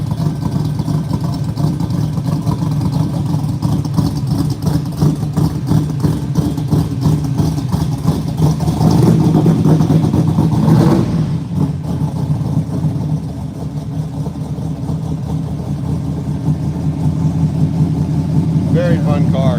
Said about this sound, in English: Got a 502, kind of a wicked little cam in it. Running a little rich because the choke is on.